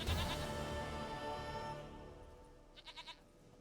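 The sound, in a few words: goat bleating in The Witcher 3 video game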